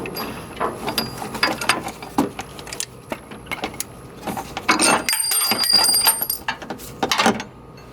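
A ratchet clicks in quick bursts while backing out an upper control arm bolt on a vehicle during a suspension install, the clicks close and loud, with brief pauses and metallic clanks.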